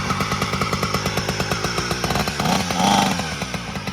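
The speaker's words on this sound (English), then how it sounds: "Sounds like a weed whacker." A small engine on a kitchen stool racer fires up and runs with a loud, rapid, buzzing chatter like a string trimmer, revving briefly higher near the end, close and alone.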